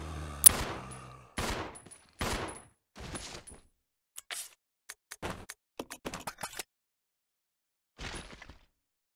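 Gunshots in the video game Resident Evil Zero: a loud opening blast followed by several separate shots, then a quicker irregular burst of cracks and a final lone shot after a pause.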